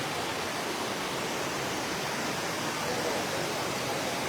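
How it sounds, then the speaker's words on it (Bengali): Rushing floodwater coming down from Mizoram across a road: a steady, loud, broadband roar of fast current that stays constant and unbroken throughout. "জলের স্রোতগুলো আপনারা একবার দেখুন মানে আমরা সামনে যাওয়ার চেষ্টা করছিলাম কিন্তু এই স্রোতের কারণে যেতে পারছি না"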